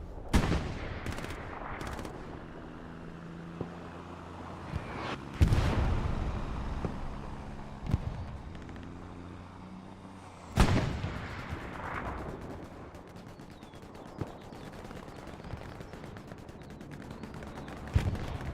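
In the World War II shooter Hell Let Loose, a bombing run on the Kharkov map brings heavy, booming explosions with long rumbling tails, while scattered distant gunfire and rattling shots continue underneath.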